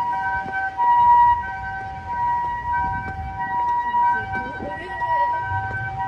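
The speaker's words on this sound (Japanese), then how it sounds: "ピーポーピーポー言ってるわ" An ambulance siren wails in a steady two-tone pattern outside Kobe Suma Sea World, holding clear and fairly loud for the whole stretch over background street and crowd noise.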